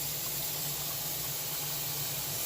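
A pot of water steams under a bowl of soap with a steady, soft hiss that stays even and unbroken throughout, with no voices.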